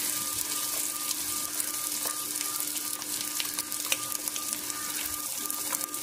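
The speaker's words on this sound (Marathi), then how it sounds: "कांदा आपण तेलामध्ये थोडासा चांगला लालसर होईपर्यंत भाजून घेऊया।" Onion fries in oil in a pan, giving a steady, close sizzle with faint crackles throughout and no voices.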